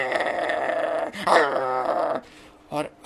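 A voice mimics dogs barking and growling wildly outside a house, a rough, rasping snarl that swells, breaks off briefly, then returns in a short burst, with speech running around it.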